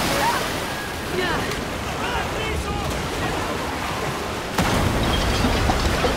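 Rushing river water carries a raft downstream in Shadow of the Tomb Raider, a continuous broadband surf-like rush with a heavier surge near the end, with a few faint game effects mixed in.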